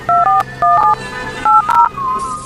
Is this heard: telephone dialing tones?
yes